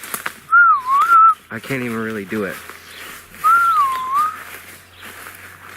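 A man whistles to imitate a Bigfoot whistle: two wavering, swooping whistle notes, close and loud, separated by a short spoken remark in a quiet outdoor setting.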